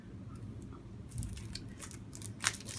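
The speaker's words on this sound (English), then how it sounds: "No more rustling with the package." Crinkly packaging of a heat-transfer sample pack is torn open and handled, giving irregular close crackles and rustles with a sharper snap near the end.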